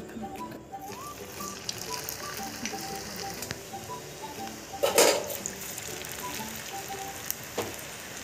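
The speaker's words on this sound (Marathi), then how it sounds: "तर आता आपण ह्या घालूयात तेलामध्ये." Rice flour chakli drop into hot oil and fry with a soft, continuous crackle and sizzle, broken by a louder splash-like burst midway and a few light taps.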